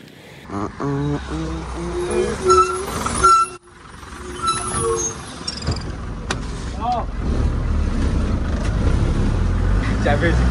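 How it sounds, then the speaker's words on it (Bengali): A bus pulls in and stops. A heavy engine rumbles, and an air-brake hiss and clunks follow, while a person talks over the start. The low engine drone grows steadier and closer toward the end. "তো ফাইনালি বন্ধুরা বাস এসে গেল"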